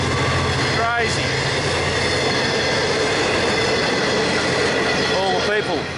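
A passenger train rolls past on a railway in regional Victoria, heading toward Melbourne, a loud continuous rumble and rattle of wagons with brief wheel squeals near the start and end.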